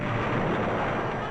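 Heavy cannon fire thunders from Venetian galleys in the naval battle of Lepanto, a dense, continuous roar of booming blasts that fills the scene loudly from start to finish with no voices.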